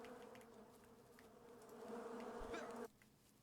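Bees buzz in an island beekeeping video game with a steady, layered droning hum that swells slightly and then cuts off abruptly near the end, faint and with no talking.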